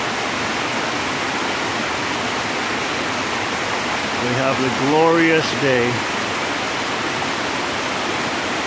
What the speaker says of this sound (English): above this grand waterfall